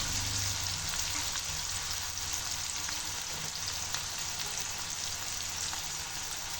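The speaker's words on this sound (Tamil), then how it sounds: "இப்போ வந்து நம்ம 2 பெரிய சைஸ் வெங்காயம் ஆட் பண்ணிக்கலாம்." Two large onions fry in hot oil on a tawa, giving a dense, even crackling sizzle that holds steady throughout without any talking.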